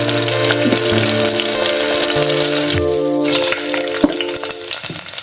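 Tomatoes roast in a hot pan for a cucumber, tomato and onion chutney, giving a steady loud sizzle and frying crackle throughout, with faint tonal background sounds and no talking.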